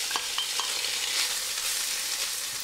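Small cubes of sheep tail fat fry in a hot pan, a bright steady sizzle with a few soft stirring scrapes near the start, close and continuous with no talking.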